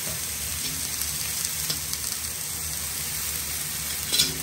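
Sliced king oyster mushrooms sizzle steadily in a hot pan, a constant close crackle and hiss with occasional small pops and a faint stir near the end.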